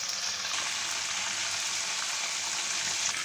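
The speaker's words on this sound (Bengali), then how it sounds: "এই যে আমাদের সেকেন্ড লেয়ারটা আমরা ফ্রাই করে ফেলেছি" Chicken and potato pieces frying in hot oil give a steady, loud, dense sizzle that holds without a break for the whole stretch, with no voices over it.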